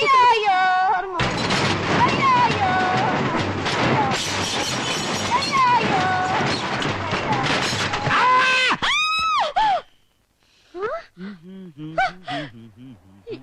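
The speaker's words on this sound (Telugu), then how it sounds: "ఏంటి నాకేదో అరుపు వినిపించింది" A dense, loud stretch of shrieking and gasping from a comedy film scene fills most of the passage, ending in sharp high cries, after which lively voices talk in the quieter final seconds.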